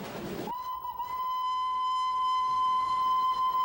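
A steam locomotive on the Darjeeling line sounds its whistle, a loud, sustained tonal blast that starts abruptly after a brief burst of noise and holds steady to the end, with no talk.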